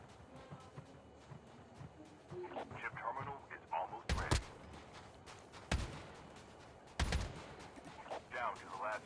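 Gunfire in the mobile shooter Call of Duty Mobile, heard as a few sharp loud bursts spaced a second or so apart over busy game sounds and background music, with a voice talking at moments.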